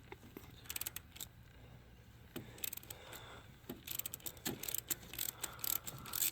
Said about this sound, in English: And we'll get our ratchet in place.